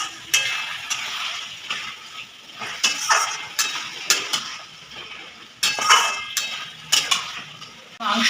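Mutton pieces stir-fried over high heat in a kadai, with a steady sizzle under repeated sharp scrapes and clinks of a ladle against the metal pan, coming in irregular bursts.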